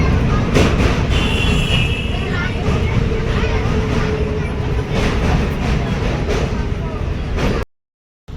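A train rolling into a station, a loud, close, continuous rumble of wheels on rails with rattling carriages and a brief high wheel squeal, ending abruptly.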